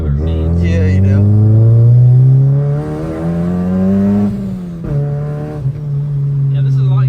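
A car engine revs hard while driving, its deep rising and falling drone loud and close throughout, with a brief dip before picking up again; voices talk over it at times.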